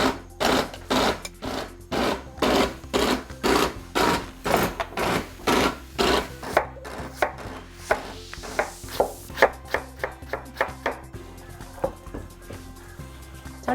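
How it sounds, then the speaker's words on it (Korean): Garlic and ginger whizzed in a blender for kimchi seasoning, heard as a run of loud rhythmic pulsed bursts that shorten and quicken toward the end, close up with no voices. "다음에 마늘, 생강을 같이 넣고 갈아주세요"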